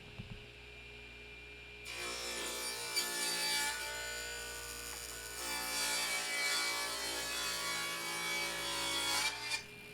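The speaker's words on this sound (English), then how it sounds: "I'm simply cutting them 3/4 inch square on the table saw" A table saw rips wood into 3/4-inch square stock, with a loud, steady whine and hum sustained for several seconds, swelling slightly through two passes, close up and without talk.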